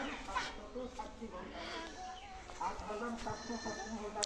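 Goats on a farm bleat several times at close range while eating bamboo leaves, their wavering cries mixing with quiet background activity.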